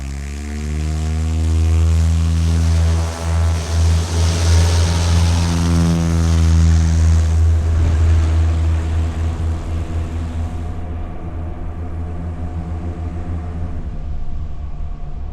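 A small propeller airplane comes down to land, its engine drone loud and close with a beating, wavering tone, easing off and fading toward the end with no voices.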